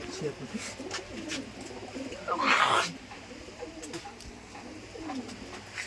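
Giribaz pigeons coo softly on a farm in a steady murmur of calls, with a brief louder flutter partway through and people talking nearby.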